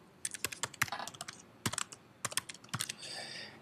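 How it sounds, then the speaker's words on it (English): Fingers typing on a computer keyboard in a classroom setting, a close, quiet run of irregular clicks and key taps in uneven bursts, with a brief pause and a short rustle near the end. "you would just simply start typing in your sections"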